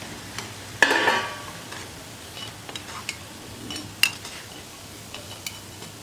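Rava bonda balls of semolina batter frying in hot oil and being lifted out with a metal ladle: a clear scrape and clink near the start, then soft sizzling with scattered light clinks.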